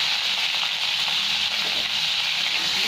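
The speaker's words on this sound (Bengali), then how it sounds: "ভাজতে চলে এটা খুব ভালো করে একটু ভেজে নেবো আলু আর পটল" Potatoes and pointed gourd (potol) fry in hot oil in a pan for a Bengali aloo potol curry, giving a loud, steady, close sizzle that hisses without letup, with no voices.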